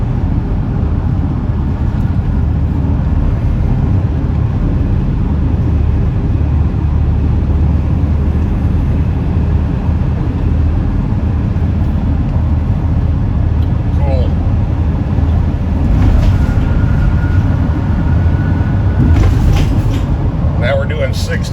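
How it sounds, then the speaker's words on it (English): Army military truck with big tires and gear loaded on the back cruising on an interstate at 60 to 65 mph, a steady loud broadband road and engine roar heard alongside, with people talking over it. "I didn't know those military vehicles were allowed to go that fast"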